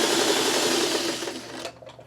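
A sewing machine stitches small fabric crumb pieces at regular speed, a fast steady whirring hum close up that stops abruptly near the end, with no talking.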